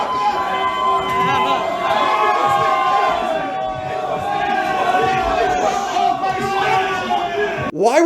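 A live event crowd cheers and chants rhythmically, loud and close, a dense wall of shouting voices with whoops rising over it, swelling and dipping across the stretch before cutting off abruptly.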